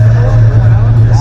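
A Dodge Challenger 392 SRT Scat Pack at a car show rumbles with a steady, deep V8 idle close by, a continuous low throb with crowd chatter and voices in the background.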